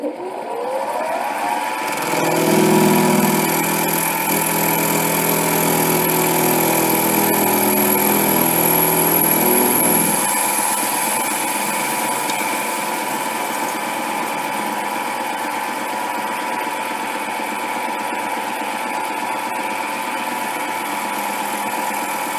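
A metal lathe fitted with a 4-jaw chuck runs with a steady motor hum and whine while taking a cut; a rougher, louder grinding layer drops away after about ten seconds, leaving the even machine drone.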